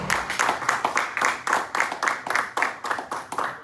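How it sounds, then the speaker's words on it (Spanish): A church congregation claps in steady, rhythmic unison, loud and close, with brisk repeated beats throughout. "dele una ofrenda de palmas fuerte al Señor"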